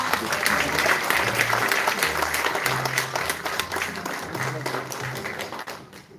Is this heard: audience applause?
yes